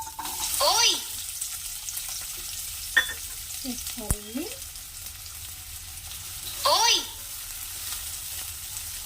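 Chopped medium-sized onions frying in a little oil in a pan for a cashew mutton curry, a steady soft sizzle with a few stirring clinks, while someone speaks briefly over it.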